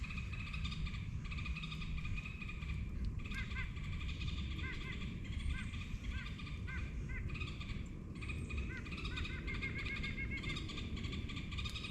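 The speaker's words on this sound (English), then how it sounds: "We've got a squirrel back behind us, sounding the alarm" A squirrel sounds a repeated alarm call from the woods behind a winter campsite: a string of short, sharp chirps, moderately distant, over a steady outdoor background.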